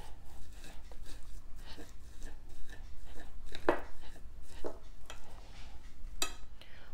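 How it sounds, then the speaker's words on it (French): Potatoes being mashed with a fork on a plate, heard as soft repeated squashing and scraping with a few sharp clinks of metal on ceramic against a low background hum. "j'écrase mes pommes de terre à l'aide de ma fourchette"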